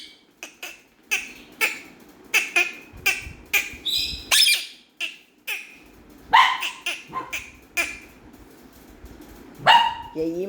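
A pet dog barks in a string of sharp, close yaps and yelps, with a person talking and calling out in between the barks.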